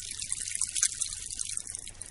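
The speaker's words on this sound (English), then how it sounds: "it sounds like trickling water" A meter-long bull kelp rattle is slowly tilted from side to side, its contents producing a soft, continuous trickling-water hiss, close and steady.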